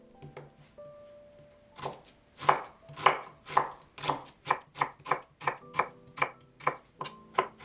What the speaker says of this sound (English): chop 2 onions